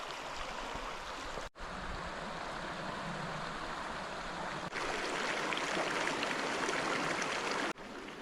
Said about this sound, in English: look how pretty this creek is